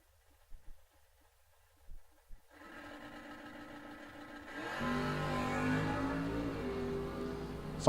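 Drag race between an Oldsmobile and a Chevelle at a bracket series event. A few quiet knocks come first, then an engine note starts up and grows into a loud, sustained roar of accelerating cars.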